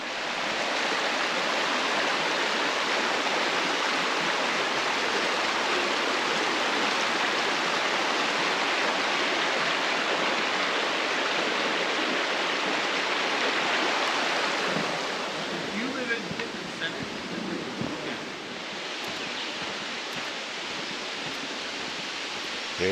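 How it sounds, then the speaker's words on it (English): Roaring Cataract Falls on the Blue Ridge Parkway, a steady broadband wash of rushing water filling the whole clip, loud and close, thinning slightly near the end as a few faint voices and footsteps come through. "Just listen to the water roar by,"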